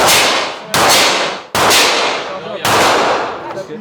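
A very large-calibre gun at a shooting range fires four loud, sharp blasts spaced about a second apart. Each blast is followed by a booming decay, and there is no speech between the shots.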